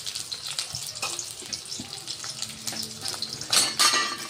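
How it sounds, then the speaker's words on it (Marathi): Two chopped onions sizzle in about 1.5 spoons of hot oil in a pan, a soft crackling fry punctuated by clinks and scrapes of a stirring spoon against the pan. "कांदा छान होऊ द्यायचा आहे आपल्याला तांबूस होईपर्यंत।"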